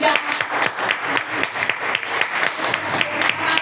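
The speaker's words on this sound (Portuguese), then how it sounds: "Aplauda o Senhor, aleluia." A church congregation claps in praise during a sermon, a brisk, uneven burst of many hands from a crowd in a hall, moderately loud and continuous with faint voices mixed in.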